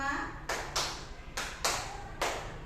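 Five sharp hand claps in an uneven rhythmic pattern during a positive-culture teacher session at an elementary school in Jatiguwi, sounding close and clear over a faint room murmur.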